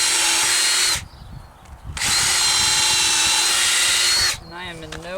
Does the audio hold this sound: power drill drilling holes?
yes